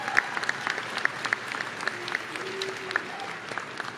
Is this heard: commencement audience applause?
yes